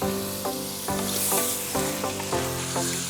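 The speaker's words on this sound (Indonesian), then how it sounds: "Lalu masukkan ikan toman goreng." Fried toman fish dropped into a pan of liquid and sautéed spices, raising a loud, steady sizzle with repeated clanks of stirring at a regular rhythm, close up and with no talking.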